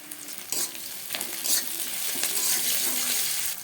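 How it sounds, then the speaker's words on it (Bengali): Sliced onions with a bay leaf frying in hot oil in a pan, a steady loud sizzle with scraping stirs and occasional spoon clinks, without talk. "পেঁয়াজটা আমি লাল করে ভেজে নেব"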